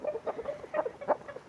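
Champion fighting rooster clucks in short, uneven bursts at close range, a handful of throaty calls spread across under two seconds with no speech.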